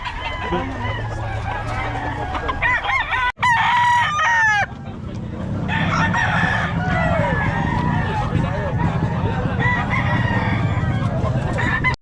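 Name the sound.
rooster crowing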